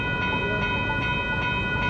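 TriMet WES commuter train rolling slowly past a road crossing in Beaverton, a steady low rumble with a faint repeating ding of crossing bells over it.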